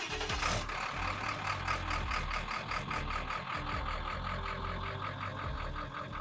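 A 7.3 diesel engine in a 1972 Ford F100 pickup truck cranks and turns over, then settles into a steady, throaty rumble with a rhythmic clatter, moderately close.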